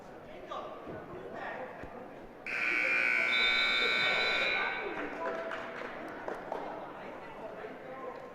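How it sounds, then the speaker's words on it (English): A wrestling match clock buzzer blares loudly for about two seconds in a high school gym, a harsh steady electronic tone that rises over crowd murmur and a commentator's voice, then cuts off as chatter continues. "So now you will hear the buzzers"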